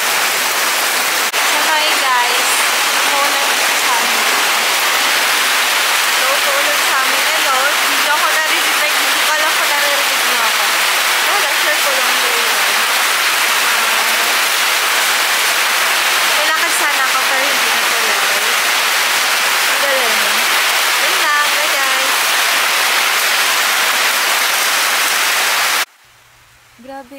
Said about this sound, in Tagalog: sobrang lakas ng ulan nung araw na yan